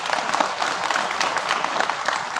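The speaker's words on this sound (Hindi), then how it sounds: "ताली हो जाए।" An audience at a medical college event applauds, a steady dense patter of many hands clapping at moderate loudness throughout.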